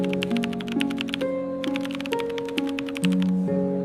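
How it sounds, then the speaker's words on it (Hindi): Rapid, steady keystrokes on a keyboard during a typing test, close and continuous with brief pauses, accompanied by a sustained tonal music bed and no speech. "25 वर्ड पर मिनट निकल गई टाइपिंग।"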